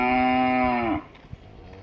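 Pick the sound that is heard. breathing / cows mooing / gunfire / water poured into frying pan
cows mooing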